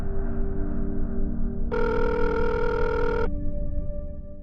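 A telephone rings once with a bright electronic trill over a low steady hum, then stops, leaving the hum and a faint tone.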